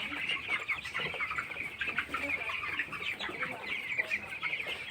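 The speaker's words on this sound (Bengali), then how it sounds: "কত সুন্দরভাবে খাচ্ছে ব্রয়লার মুরগিগুলো" Young broiler chickens, about fifteen days old, cluck steadily while pecking at Gumboro vaccine on a poultry farm. A dense, overlapping flock chorus of soft clucks and chirps continues close by, with no pauses.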